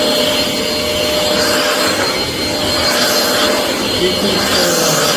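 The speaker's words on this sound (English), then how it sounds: "This is the worst vacuum cleaner. Not the weakest. It's the weakest. You see, it's even in full power." A Rowenta XPert 6.60 cordless stick vacuum cleaner running at full power, a loud, steady, close whirring roar filling the whole stretch without pause.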